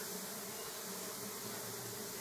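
Uruçu Nordestina stingless bees give off a steady, dense buzzing drone, close and continuous with no pauses.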